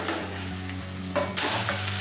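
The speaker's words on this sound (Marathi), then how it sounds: "आपले आता पाय मस्तपैकी साधारण 5 मिनिटापर्यंत परतून झालेले आहेत" Trotters coated in spice masala fry in a pan with a steady close sizzle, broken by brief bursts of stirring and scraping, and no voices.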